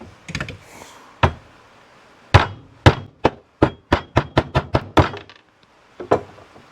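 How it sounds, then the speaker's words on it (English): A hammer drives a half-inch chisel to cut out the middle section of a piece of scrap wood, a series of about a dozen sharp, close knocks, spaced irregularly at first and then in a quick steady run. "we'll grab a 1/2 inch chisel, and then we'll take out that middle section"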